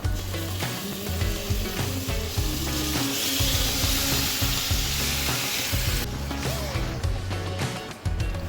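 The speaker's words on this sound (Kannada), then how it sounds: "ಆ ನಂತರ ಮ್ಯಾರಿನೇಟ್ ಮಾಡಿಟ್ಟ ಚಿಕನನ್ನು ಇದಕ್ಕೆ ಸೇರಿಸುವ." Marinated chicken pieces frying in a pan with ginger garlic paste and fried onions for a Mangalorean chicken ghee roast, giving a loud, steady sizzle with stirring scrapes throughout and no talking.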